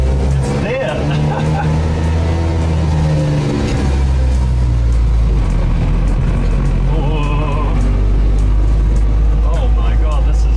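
Barkas B1000 van engine droning low and steady while driving, with gear changes audible as the pitch shifts; people talk over it throughout.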